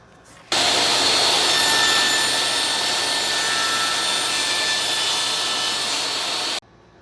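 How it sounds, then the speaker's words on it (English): A saw cuts through a piece of masonite for a dovetail panel vertical drawer, a steady loud power-tool whine running unbroken for about six seconds with a sudden start and stop. "I cut the piece of masonite."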